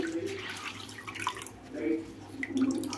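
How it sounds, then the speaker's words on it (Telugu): Soft splashing and dripping as water is squeezed out of wet cotton cloth, in a few brief bursts, close and quiet. "వాటర్లో తడిపి అయితే తీసుకోవాలి. టైట్గా పిండేసుకోవాలండి."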